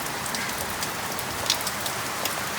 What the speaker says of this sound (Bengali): আর টিনের চালের উপরে বৃষ্টিগুলো পড়তেছে